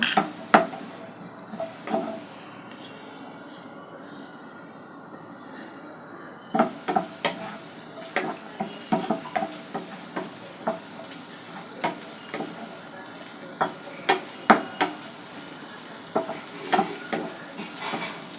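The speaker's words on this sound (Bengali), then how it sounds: "ভালো করে নেড়ে দেব।" Taro greens stirred in a frying pan over mustard oil, a spoon scraping and knocking against the pan in irregular clatters over a soft steady sizzle.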